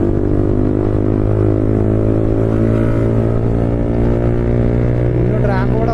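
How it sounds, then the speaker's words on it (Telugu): A motorcycle with an extremely loud exhaust riding at night, its engine drone steady and close throughout, with a brief rising whine near the end. "బైక్ సౌండ్స్ ఆయన కూడా మంచిగా బాగా ఇస్తుండు"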